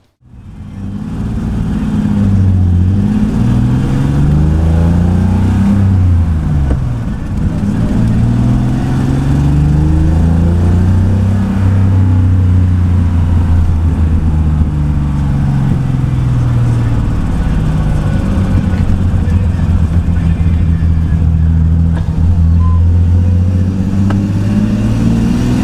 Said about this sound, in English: as you've seen from that clip, the car is running now